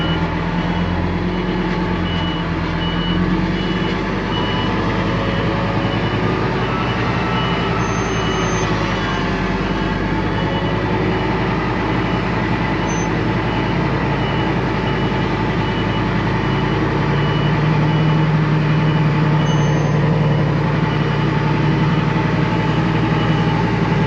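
A heavy construction truck rumbles at a steady low drone on a dam building site, with faint reversing beeps sounding intermittently over the engine noise throughout.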